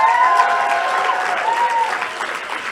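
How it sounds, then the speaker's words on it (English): Convention audience at a live performance panel breaks into applause, a dense wash of clapping from a large room that holds steady and eases slightly, with a faint whistle-like tone riding over it. "Everybody applaud."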